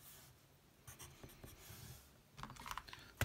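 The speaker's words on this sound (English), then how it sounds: "So if we just type that in on the calculator" Soft, quick taps on calculator keys enter a cone-volume sum, with faint scattered presses at first and a denser run of clicks near the end, close and quiet with no voice over them.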